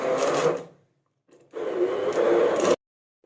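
Spinach and fenugreek leaves being ground in a kitchen grinder, two loud buzzing runs with a short pause between, the second burst longer before cutting off abruptly.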